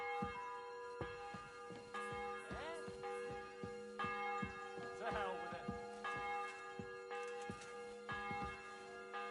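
A church bell tolls in the Kingdom Come Deliverance 2 game world, struck in slow, regular strokes that ring on with sustained tones, under a steady ambient bed while someone briefly speaks.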